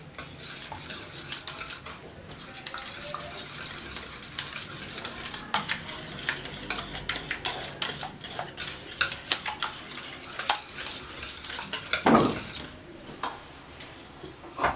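Chicken with garlic paste is stirred in a pot for Lahori degi chargha, producing continuous close scraping, wet squelching and light sizzle, with a brief louder clatter near the end.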